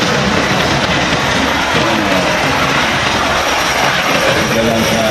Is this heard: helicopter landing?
yes